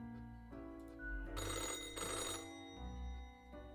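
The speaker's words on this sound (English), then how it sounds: "Old-fashioned phone." An old-fashioned telephone rings inside a video game, a bright bell ring in two or three bursts over a low, droning musical background.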